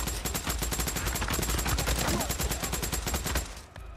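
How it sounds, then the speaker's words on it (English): Rapid bursts of Tommy gun fire in the zombie game Days Gone, a dense rhythmic stream of loud close shots lasting several seconds before cutting off abruptly. "Gotta go back to the Tommy gun."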